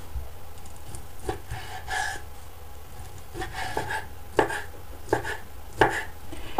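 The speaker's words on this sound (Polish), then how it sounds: "Szynkę kroję w kostkę." A knife dices ham on a cutting board, giving a series of sharp, close taps in an uneven rhythm over a faint room hiss, with no talking.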